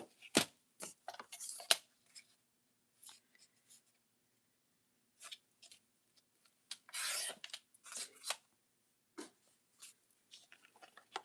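Paper being cut down to size for junk journal pieces, a series of short, crisp rasping strokes in separate bursts with brief pauses between, close and fairly quiet with no talk.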